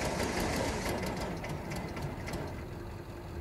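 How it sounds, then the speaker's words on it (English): Bobcat diesel engine in cold weather, suspected glow plug or fuel air trouble, cranking hard and struggling to catch, a steady loud mechanical churn with rapid knocking pulses that eases slightly toward the end. "There she goes."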